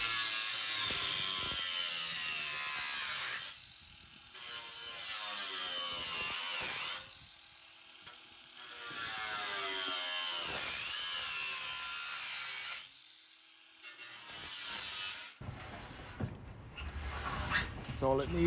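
An angle grinder cuts out seized nuts during a bearing replacement on an Indesit Hotpoint tumble dryer, giving loud, sustained grinding in several long bursts separated by short pauses, ending in rougher, broken-up cutting.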